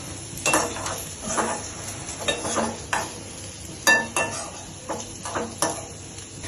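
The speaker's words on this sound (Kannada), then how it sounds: "ಗಾರ್ಲಿಕ್ ಬ್ರೆಡ್ ಮಾಡ್ತೀವಿ, ಗಾರ್ಲಿಕ್ ಫ್ರೈ ಮಾಡ್ತಿದ್ದೇವೆ ನಾನು." Garlic sizzles steadily as it fries in a pan for garlic bread, with repeated sharp scrapes and stirs of a utensil against the pan over a constant crackling hiss; no one speaks.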